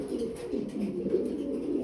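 Pigeons cooing inside a breeding coop, a steady soft layer of overlapping low coos from several birds at close range, continuing without pause.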